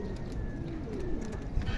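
Racing pigeons in Pililla, Rizal coo in a low, repeated, throaty rhythm, several birds close by over steady outdoor background noise.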